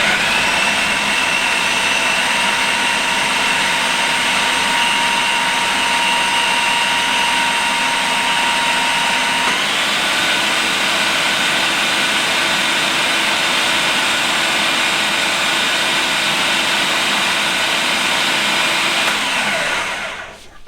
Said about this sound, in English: I'm going to mix just the cottage cheese by itself, blending it till it's more smooth and broken down